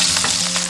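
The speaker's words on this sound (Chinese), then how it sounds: "锅中倒少许食用油，下入葱白姜片炒香" Scallion whites and ginger slices stir-fry in a little oil in a wok, making a brief, loud, close crackling sizzle.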